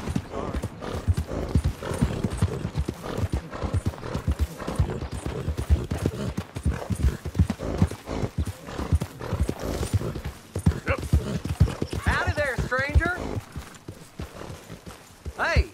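A horse's hooves clip-clop at a brisk pace in the video game Red Dead Redemption 2 while someone talks over them, with a horse whinnying briefly near the end.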